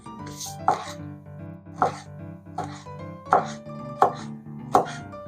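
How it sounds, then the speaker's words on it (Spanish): Celery being chopped with a knife for a coditos soup, giving six sharp, evenly spaced blade strikes on a cutting board, close and distinct over a steady background hum. "vamos a picar nuestro apio"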